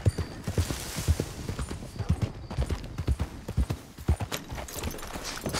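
Horse hooves clip-clop steadily in the video game Red Dead Redemption 2, a close, even rhythm of sharp knocks on hard ground running through the whole stretch with no talking.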